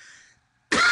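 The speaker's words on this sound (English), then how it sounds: "it's taken me 5 minutes to cough" One short, sharp cough bursts out close to the microphone right after a quiet moment, loud and abrupt.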